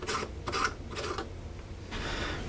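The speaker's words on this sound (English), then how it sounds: "We're going to take the bulb out." Rasping, rubbing handling of a bulb as it is taken out of a pull string lamp, several close scraping strokes in short bursts with no talk.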